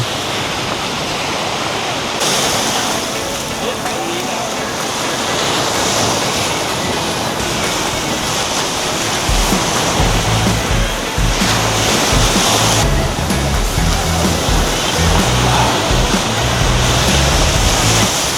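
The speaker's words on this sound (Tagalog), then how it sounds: "Nandito na tayo sa mismong Puka Beach. So, hindi naman para siya ganun ka maalon." Ocean surf at Puka Beach on Boracay, a steady wash of fairly gentle waves breaking continuously, with a deeper rolling rumble building in the second half and no voices.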